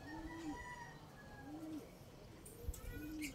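A racing pigeon from a one-loft race coos close by in three repeated low, rolling calls spaced evenly apart, with soft background noise and a faint click near the end.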